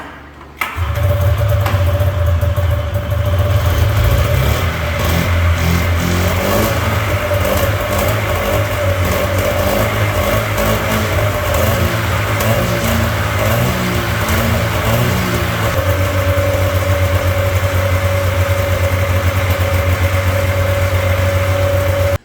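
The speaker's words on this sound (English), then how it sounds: "19 tugs to get her to spit and sputter, and then another one for good measure to get her to idle." A small pull-start engine sputters into life after a long run of pull attempts, then settles into a steady, loud, close idle with a constant drone that continues alone for the rest of the stretch.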